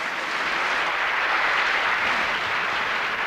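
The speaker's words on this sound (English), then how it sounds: "And a great cheer from the crowd" A crowd cheers and applauds at the 1974 World Diddling Championships in Scotland, a loud, sustained wash of clapping that fills the hall without pause.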